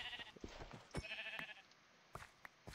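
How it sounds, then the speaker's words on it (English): Sheep in Minecraft bleat in a few short, wavering cries over a quiet background, with some soft clicks and footsteps between them and no talk. "You're a sheep, not a mountain goat."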